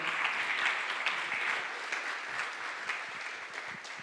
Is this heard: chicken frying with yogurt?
no